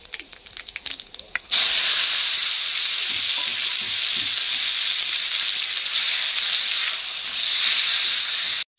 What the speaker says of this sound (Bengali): এবার টমেটোগুলো দিয়ে দেব।